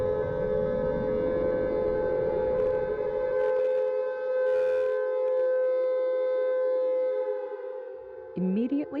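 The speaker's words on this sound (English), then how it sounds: "air raid sirens activated across all 50 states" A wailing air raid siren blares in a long sustained tone, steady and loud, with a brief rumble underneath and a shift near the end.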